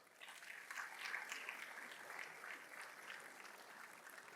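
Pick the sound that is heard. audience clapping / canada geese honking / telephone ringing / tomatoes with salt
audience clapping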